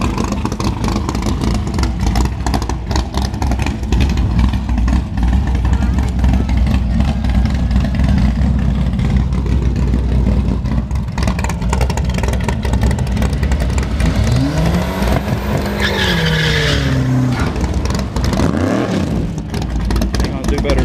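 A Dodge Neon and a Ford Mustang launch side by side in a drag race at Newport Raceway, their engines roaring loudly and continuously throughout, with voices talking over the engine noise.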